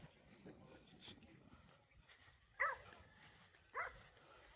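A dog barks twice in sharp, separate bursts from a short distance, over faint background noise and distant murmuring, at a property near Caliraya Lake.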